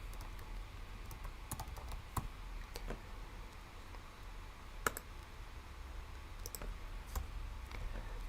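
Someone types on a computer keyboard, producing quiet, irregular clicks and taps in scattered bursts, with a few sharper keystrokes standing out against a soft background hum.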